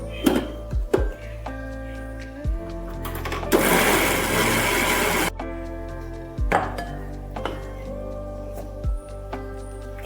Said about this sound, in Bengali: এবার আমি এটাকে মিক্সিতে একটু গ্রাইন্ড করে নেব।